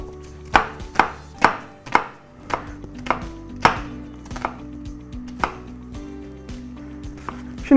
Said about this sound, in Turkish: Şu diğer yarım soğanı doğrayayım.